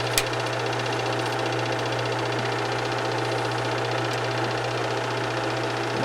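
A Bell and Howell 456a film projector runs with a steady mechanical whir and a low hum, close and even throughout, with a single click near the start.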